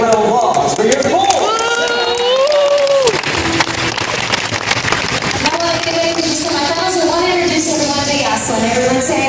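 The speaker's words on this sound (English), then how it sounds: "Ladies and gentlemen, big round of applause for your 4." A live stunt show audience claps and cheers continuously, loud and dense, while an announcer's voice and whoops carry over the crowd noise.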